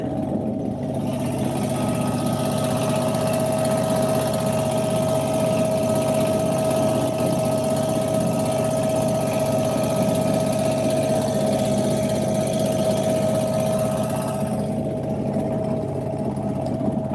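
A ship's engine runs on the water off Patenga in Chittagong, near a naval academy and fishing trawlers, as a large mother vessel approaches: a steady, loud mechanical drone with a constant hum that holds throughout with no talking.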